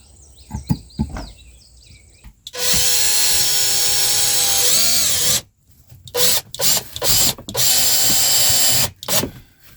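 Power tool driving screws to fix a Garvee water pump in place: a few light knocks and handling noises, then a long steady whir, followed by several shorter bursts of drilling, close and loud.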